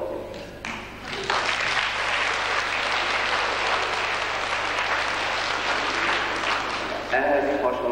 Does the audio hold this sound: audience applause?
yes